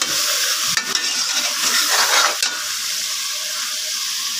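Chicken sautés in a pan over low heat, giving a loud, steady hiss of frying broken by a few stirring scrapes near the start.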